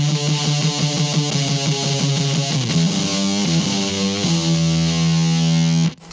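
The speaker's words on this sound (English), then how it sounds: "and then into the BSRI FZZ." Electric guitar run through a BSRI FZZ fuzz pedal into a Vox AC10 amplifier, with thick, saturated fuzz chords strummed rhythmically and then held in a loud sustained ring that cuts off sharply.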